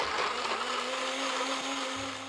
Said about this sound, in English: We're just gonna stick this in a blender. I just have my NutriBullet here